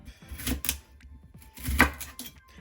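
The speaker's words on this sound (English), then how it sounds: "Chop it up." A knife chops ingredients on a board while preparing peppered grilled fish, two clusters of quick, close, crisp cuts separated by a pause.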